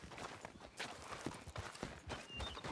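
Horse hooves clopping in a quick, uneven rhythm, close and moderately loud, with no talking, from the video game Red Dead Redemption 2.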